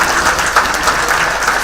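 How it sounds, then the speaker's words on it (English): Loud, sustained applause from a large audience, steady clapping filling the whole stretch without pause. "give a loud applause for our amazing panelists"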